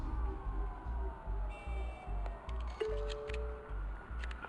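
Police car sirens wail faintly in the Batman Telltale Series video game, thin rising and falling tones layered over a low, pulsing rhythmic beat with no voices.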